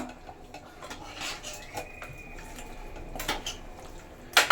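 Chicken chops being mixed by hand with masala paste and rock salt in a bowl, giving soft wet squelching and scraping with occasional light clinks of a utensil against the dish, fairly close and quiet, no talking.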